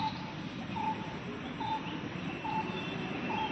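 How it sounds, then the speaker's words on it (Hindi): Small birds give soft, repeated high calls at a steady interval of roughly one a second, faint and distant over a constant broadband hiss, with no voices. "और देखो इन पक्षियों को।"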